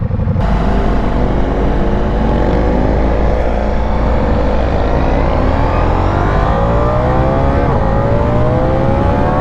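A Ducati Diavel motorcycle engine pulls hard under throttle. Its loud, deep exhaust note climbs steadily in pitch for several seconds, close and continuous, with no voices.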